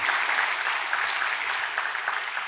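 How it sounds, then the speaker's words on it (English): A festival awards audience claps steadily for game makers, a dense, even wash of many hands filling the hall without a break. "Give those folks a round of applause."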